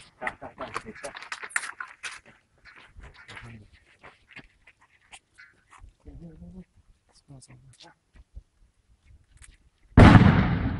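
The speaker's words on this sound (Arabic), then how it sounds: "يقومون باستهداف مبنى الزراعة قنابل الفتيل" Fuse hand grenade exploding at an agricultural building during fighting in Aleppo, one loud close blast arriving at the end after sparse shouting and talk.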